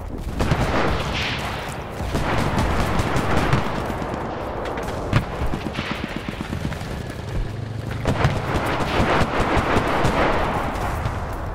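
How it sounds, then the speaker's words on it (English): Dense gunfire in the World War II shooter Enlisted during a Battle of Moscow multiplayer match, loud rapid bursts of rifle and machine-gun shots with booming explosions, continuous and chaotic throughout. "A lot of gunfire, man."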